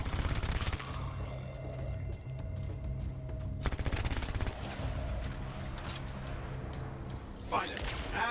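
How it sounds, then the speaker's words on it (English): Enemy gunfire in the game Anthem crackles as a steady run of rapid shots at moderate level, with mechanical clanks and a sharp burst near the end. "Where are they shooting me from?"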